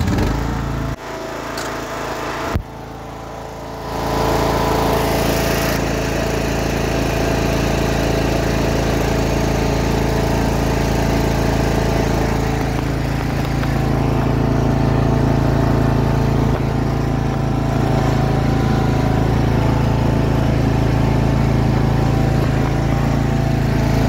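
A zero turn lawn mower's engine cranks briefly, then catches and runs steadily at a loud, even drone, with no talking.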